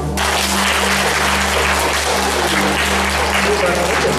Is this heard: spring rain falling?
no